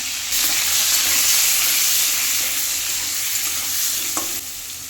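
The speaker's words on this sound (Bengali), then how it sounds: "এখন পটলগুলো একটু ভেজে নেব, অল্প করে একটু হলুদ দিয়ে দেবো" Pointed gourd pieces frying in oil in a kadai with a little turmeric, producing a close, dense, unbroken sizzle with faint stirring and a single light tap near the end.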